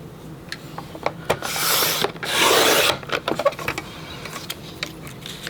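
Scissors or a paper trimmer cut 1/2-inch paper strips for a scrapbook album, giving two longer rasping slices amid scattered small clicks and rustles of paper handling, close and fairly quiet with no speech.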